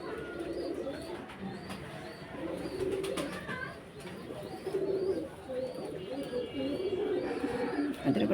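Pet pigeons coo and call softly while eating the feed put out for them, with repeated low murmuring coos and a few light chirps at moderate distance.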